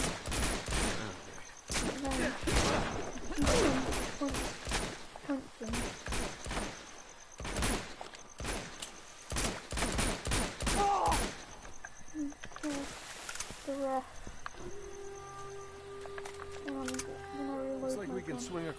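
Bursts of gunfire from the action game Uncharted 2 Among Thieves Remastered, rapid volleys of close shots broken by brief gaps, mixed with people talking, fading to quieter clanks and ambient effects near the end.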